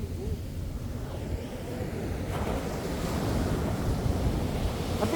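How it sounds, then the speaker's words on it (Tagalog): Strong ocean waves break on a beach at San Felipe, Zambales, a continuous roar of surf mixed with gusting wind buffeting the microphone that swells louder midway through. "Ang lakas talaga ng alon"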